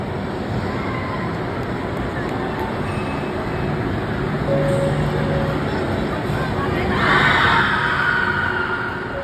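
A burst of distant screams rises from riders on a ride inside an indoor amusement park in a Karachi shopping mall, standing out briefly over a steady wash of crowd and venue noise.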